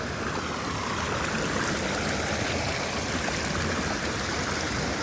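Water pours steadily over a lake spillway, a dense and unbroken rushing wash heard close and fairly loud, with no voices.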